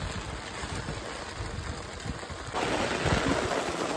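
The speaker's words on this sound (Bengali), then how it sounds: "বর্ষায় কিছু শোনা যাচ্ছে না, এত বৃষ্টি হচ্ছে" Heavy monsoon rain pours down during a fishing outing, a dense, steady hiss that grows louder partway through, with no voices.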